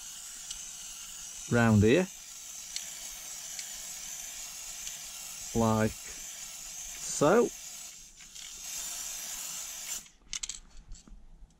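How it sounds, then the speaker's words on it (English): A spray can of adhesive for static grass on a model railway gives three short hissing bursts, each a second or less, separated by quiet pauses, with a person speaking briefly between them. "give it a quick spray"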